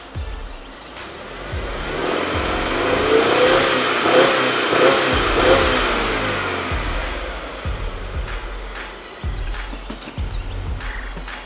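A Subaru WRX with a CVT revs in neutral, the engine climbing to a sustained high-RPM roar, holding near a limiter, then dropping back to idle with a brief blip near the end.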